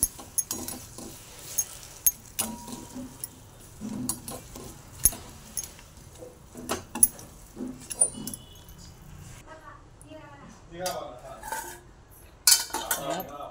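Jaggery being melted and stirred in a pan on low gas, with irregular metallic clinks and scrapes of a spoon against the pan and a voice briefly speaking.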